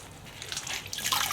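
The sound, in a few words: water rinsing cleaner off a surface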